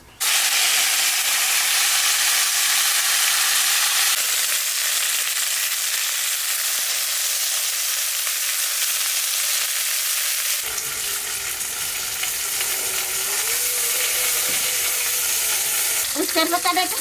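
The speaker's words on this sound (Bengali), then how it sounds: "তেলের মধ্যে উস্তে শাক দিয়ে একটু ভাজিয়ে নেব।" Bitter gourd leaves (uchche shak) frying in hot oil with radhuni and dried red chillies, a loud steady sizzle with crackling spits, stirred in the pan and close by throughout.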